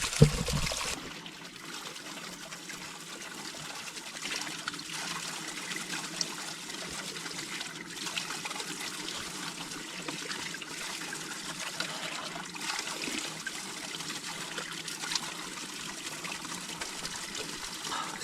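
Natural mountain water trickles steadily on the Kumara Parvata trek, a soft, continuous babbling flow that stays fairly faint and even throughout with no voices.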